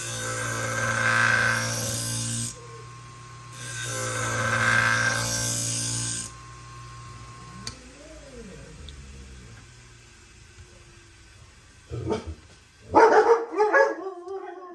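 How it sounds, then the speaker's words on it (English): Dogs howl in long drawn-out tones twice, then quieter whimpers and short barks follow, ending with a few louder close barks. "There's my dog. I want the dogs to quiet down."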